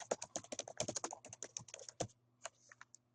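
Quick, irregular keystrokes on a computer keyboard, close and clear, while entering text into a WordPress text widget; a short burst of steady typing trails off into a few isolated taps.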